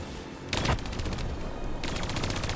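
Automatic gunfire in Call of Duty Black Ops 3 rakes an old abandoned car in bursts: a sharp close volley, a steady rattle, then another loud burst near the end.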